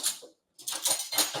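Small metal spoon clinks against cutlery in a kitchen, a couple of short bright taps and rattles close by, separated by a brief silence, with no talk.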